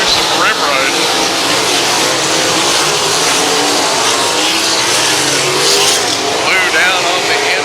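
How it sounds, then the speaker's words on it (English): USAC sprint cars race around Valley Speedway under a caution ahead of the green flag, engines roaring and revving continuously close by, with an announcer talking over the noise. "Get ready to take the green flag again. 17 laps to go."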